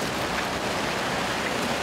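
Heavy rain pours down in a steady, dense hiss, close and loud throughout, with no voices.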